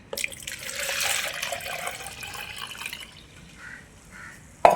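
Hot water pours into a tin with a bright, splashy rush that swells early, then thins to a gentler trickle and ends in a short metallic knock.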